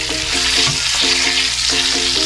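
Chicken wings frying in hot oil give off a loud, steady, close sizzle with a dense hiss and no pauses, while music plays softly underneath.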